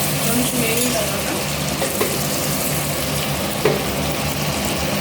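Ginger garlic paste fries in a hot pan for chicken biryani, giving a steady sizzle with a few brief stirring scrapes and clinks throughout.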